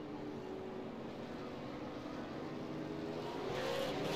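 Race cars roar off on the green flag at USA International Speedway during the USA Super 50, a steady, loud blended engine drone swelling slightly toward the end with no voices.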